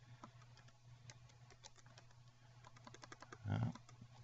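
Computer keyboard typing during a LabVIEW programming lesson at Dunwoody College, a quiet scattering of light key clicks with a brief louder burst of keystrokes near the end, over a steady low room hum.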